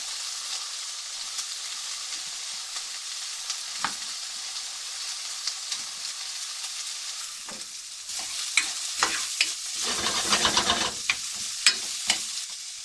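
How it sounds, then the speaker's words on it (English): Halved tomatoes, cut into thirds, fry and brown in a pan aboard a narrowboat, giving a steady close sizzle broken by scraping stirs and clatters, which grow busier and louder toward the end. "we'll let those fry and brown nicely"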